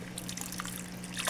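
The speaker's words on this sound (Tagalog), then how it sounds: "dinagdagan pa po na tubig" Water poured into a cooking pot while a salted, peppered dish is being prepared, a soft continuous trickle and splash lasting about a second, steady and close, with a low hum underneath.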